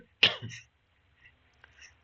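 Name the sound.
cough and throat clearing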